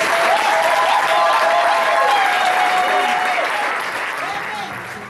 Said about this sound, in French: Est-ce qu'on peut acclamer très fort le Seigneur de Dieu?